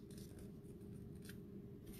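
Scissors snipping through a folded sheet of paper during a kids' Easter craft, a quiet, steady crisp cutting over a low background hum, with no talking.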